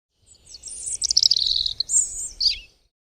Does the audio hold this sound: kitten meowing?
no